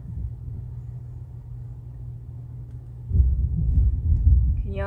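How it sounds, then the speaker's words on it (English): Thunder rumbles outside: a low, steady background rumble swells suddenly into a louder, deeper roll partway through and keeps grumbling to the end. "It's thundering out now."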